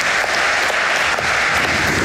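Loud, dense applause from a live crowd at a Civilization VII multiplayer livestream event, sustained clapping filling the whole stretch without pause.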